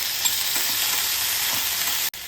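Chopped tomatoes hit a hot pan for a chilli, tomato and onion chutney, giving a steady loud sizzle with a few soft stirring scrapes, cut off by a brief dropout near the end.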